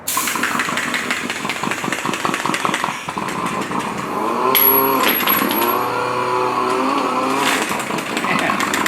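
A 5.3-litre LS V8 engine running with a choppy, lopey cam idle, rumbling close and loud with uneven pulsing beats, then swelling into a rev before settling back.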